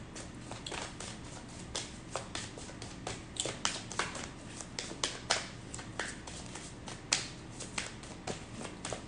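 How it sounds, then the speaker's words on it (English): Hand-shuffling of a deck of oracle cards, a quiet run of soft riffling slaps and taps in an irregular rhythm, close up with no talk. "I'm also trying to see how I shuffle,"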